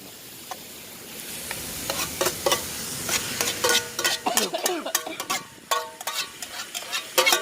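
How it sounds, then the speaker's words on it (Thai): Pork hits a hot pan and sizzles steadily while a utensil scrapes and clacks in quick irregular strokes as it is stir-fried, close and loud with no voices. "ทีนะครับผมเอาหมูลงเลยบ้าง"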